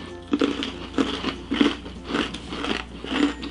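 Crunchy salted caramel brownie brittle bitten and chewed up close, a run of crisp, irregular crunches spaced through the clip, with no talk.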